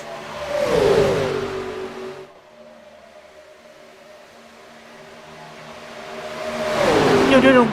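Gen4 race cars at a speedway in Atlanta scream past in two loud pass-bys, each engine revving and dopplering away, with a quieter stretch of distant engine drone between the passes.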